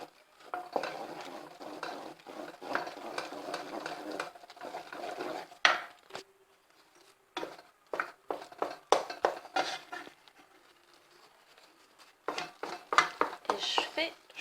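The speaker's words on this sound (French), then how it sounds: "J'ajoute ma farine d'un seul coup et je remue" Flour stirred into boiling water in a pot for éclair choux dough: rapid wooden scraping and knocking against the pot in bursts, with pauses and a voice speaking between stretches of stirring.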